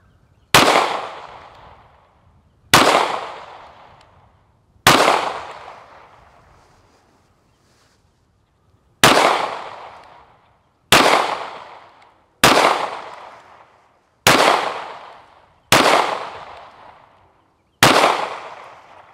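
A Smith & Wesson M&P9 M2.0 Metal 9mm pistol fitted with a red-dot sight fires at a range, giving nine sharp, loud reports with decaying echoes. They come in spaced bursts with a longer pause after the third shot.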